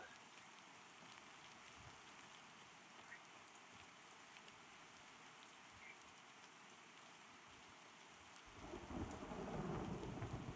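Rain and thunder in the game Pantheon: Rise of the Fallen, a steady wash of rainfall with a low rumble of thunder building louder toward the end.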